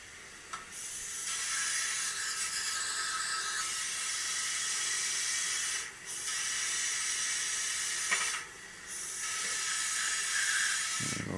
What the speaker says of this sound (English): I always clean guns first before I put them into the gun wash